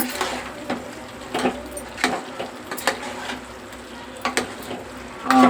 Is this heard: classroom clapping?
no